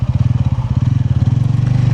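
A 2026 TVS Ronin 225 motorcycle engine thrums close up in rapid, regular pulses, holding a steady low putter while riding.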